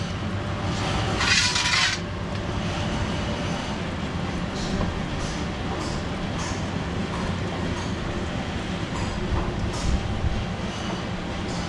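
A cold press oil machine running with a steady mechanical whir and rumble, while a person talks over it.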